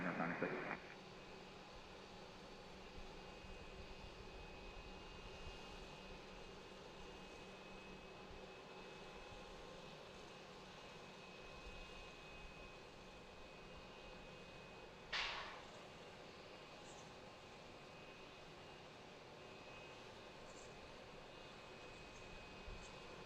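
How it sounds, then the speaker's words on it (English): Jet engine of a C-5 spooling up at Harrisburg International Airport, heard from a distance as a steady broadband roar with a thin high whine, plus a short sharp noise partway through. "It just got loud here again, that jet starting."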